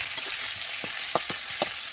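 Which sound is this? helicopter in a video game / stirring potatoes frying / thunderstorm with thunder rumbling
stirring potatoes frying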